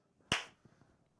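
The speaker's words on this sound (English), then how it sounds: "I'm so sorry for the people with that clap." A single sharp clap rings out close and loud, a bright broadband crack that decays within a fraction of a second, followed by faint low thumps and shuffling in an otherwise quiet space.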